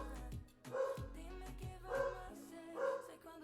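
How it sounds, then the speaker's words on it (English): A dog barks in a home, three loud, close barks spaced about a second apart, each with a throaty tone, over a low steady hum. "my dog's gonna be really loud"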